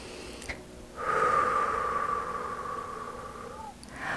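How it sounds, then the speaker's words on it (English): A person breathes slowly and steadily, a single long, soft airy exhale or inhale lasting several seconds, close and alone with no talking. "So I'm going to breathe in."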